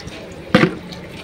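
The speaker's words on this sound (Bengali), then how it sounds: "বড় মগ দিয়ে জল ভরতে বেশ সুবিধা হচ্ছে" Water poured from a large mug into a bucket lands in one short, splashy gush, loud and close, against a quiet room.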